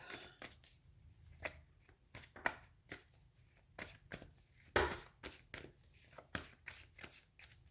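Tarot cards being shuffled and drawn close up, a quiet run of crisp irregular flicks and taps with a louder riffle in the middle.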